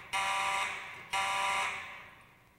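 A building fire alarm set off from a manual pull station during system testing sounds two loud, close electronic horn blasts, each about a second long and fading slightly, with no talk.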